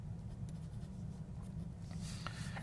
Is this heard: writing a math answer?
yes